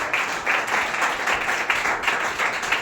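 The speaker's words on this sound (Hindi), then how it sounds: "हाथ ऊपर करके जोरदार तालियों से स्वागत करेंगे" Steady, continuous applause from a crowd, many hands clapping at once with no break and no voices on top.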